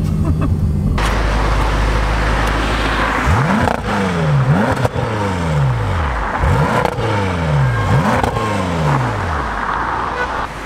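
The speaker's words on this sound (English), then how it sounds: "a twin turbo V8 which does this" Twin-turbo V8 of a BMW F10 M5 revs loudly and repeatedly, several sharp rising-and-falling blips in quick succession after a steady idle, close up with no talking.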